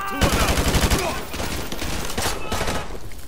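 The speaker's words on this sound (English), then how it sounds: "We are taking heavy fire from the school." Heavy gunfire from a Modern Warfare 2 firefight: a rapid burst of automatic shots at the start gives way to a dense, continuous fusillade of overlapping rifle fire and rattling reports throughout.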